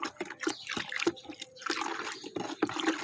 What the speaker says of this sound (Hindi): इसको हम 5 लीटर पानी में डाल देंगे और इसको अच्छी तरह से हिला देंगे